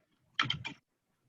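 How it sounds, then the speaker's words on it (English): A few quick keystrokes on a computer keyboard, three close clicks in a short cluster, faint and isolated against silence. "Oops, my fingers are on the wrong keys."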